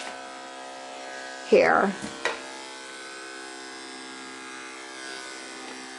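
Electric dog clippers with a 5/8 blade trimming a patch of coat, giving a steady low buzzing hum throughout, briefly overlaid by a short spoken word.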